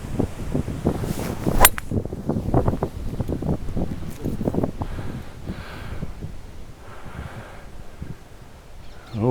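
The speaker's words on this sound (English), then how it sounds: "Windy, windy, windy." Wind blowing across a golf course buffets the microphone with a steady, rumbling roar, mixed with rustling and some brief handling knocks near the start.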